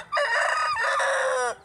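Rooster crowing close and loud, one long sustained cock-a-doodle-doo call lasting over a second, standing alone with no talk.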